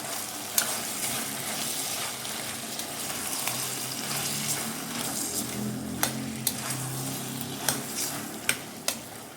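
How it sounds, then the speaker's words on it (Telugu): Masala paste with curd sizzles and fries steadily in a pan for bottle gourd kurma, with a few sharp spatula scrapes and taps of stirring near the end and no talking. "మసాలా అంతా కూడా కొంచెం పచ్చివాసన పోయే వరకు ఫ్రై చేసుకోవాలి"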